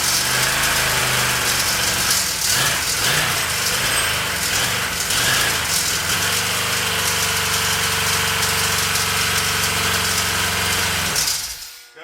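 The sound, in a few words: 350 engine in a 66 C-10 running with carburetor malfunction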